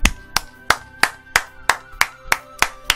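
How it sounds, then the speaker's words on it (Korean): Hand clapping, nine sharp evenly spaced claps in a steady rhythm, close and crisp with short decays, heard alone. "박수 한번 치고 가겠습니다."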